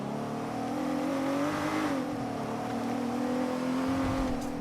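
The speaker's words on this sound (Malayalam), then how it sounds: "എഞ്ചിൻ പണി വന്ന ഡിഫൻഡറാണ് കേട്ടാ." A Land Rover Defender with engine trouble runs close by, its engine holding a steady, throaty drone with slight rises and dips in pitch, and no voices over it.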